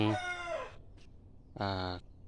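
A rooster crows twice close by, a long strained call followed after a brief gap by a second shorter, bright crow, with a faint chirp between them.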